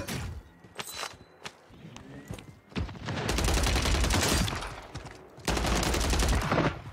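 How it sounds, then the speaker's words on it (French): Call of Duty gunfire arrives first as scattered single shots, then two long, loud sustained bursts of automatic fire with heavy low thump, close and dominating the game mix. "on me tire dessus"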